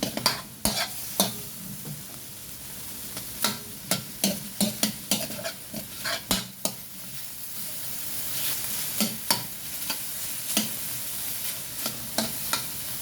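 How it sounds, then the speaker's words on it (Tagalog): Sotanghon glass noodles being sautéed in a pan, with steady frying sizzle underneath repeated sharp clinks and scrapes of a spatula stirring against the metal, close and fairly loud, no talking. "habang ginigisa natin yan"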